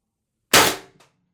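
A Mercury Rise TR50 Torpedo CO2 blaster on a 12-gram cartridge, with no restrictor or valve block and added expansion, fires one loud, sharp close blast that trails off, followed by a brief fainter pop.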